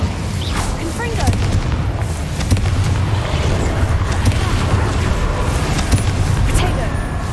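Explosive spell blasts from Hogwarts Legacy boom and crackle repeatedly in a loud, continuous game-combat din, with short sharp impacts scattered throughout.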